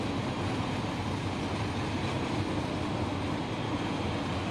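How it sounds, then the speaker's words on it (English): Mixed manifest freight train of loaded cars and tankers climbing Cajon Pass in the Run 8 train simulator, a steady dense rumble of rolling wagons and engines holding level throughout with no voices. "Here we have a mixed manifest train with various different types of goods we're carrying today."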